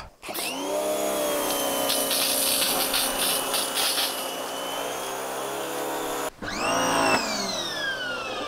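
A loud motorized Kärcher pressure washer drones continuously with hissing spray as it cleans grime off a car engine, briefly cutting out and restarting with a rising whine.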